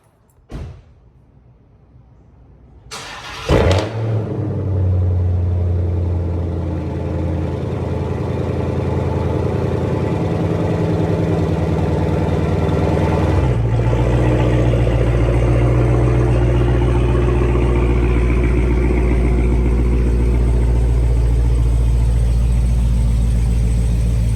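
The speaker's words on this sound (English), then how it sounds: "I'm actually gonna do a cold start right quick" Dodge Challenger Hellcat widebody firing up from cold: a brief starter whir and loud catch, then a steady, deep, rumbling idle that settles slightly lower partway through and holds up close with no talk.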